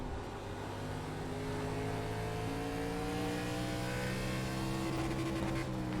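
An ARCA Menards Series race car at Five Flags Speedway in iRacing, its engine droning loud and steady while revving higher, a continuous near whine with rising tones and no talk.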